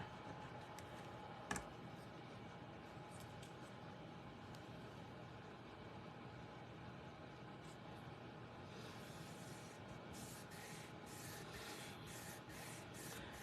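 Fingers rubbing a glued paper piece down onto a faux lattice card, a faint steady scuffing close by with one small tap near the start, no voices.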